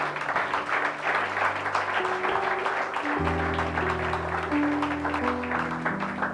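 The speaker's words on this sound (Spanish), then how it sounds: "Dele un aplauso al Señor" Steady congregational applause in an evangelical church service, a dense sustained wash of clapping over sustained organ or keyboard chords that shift in pitch partway through.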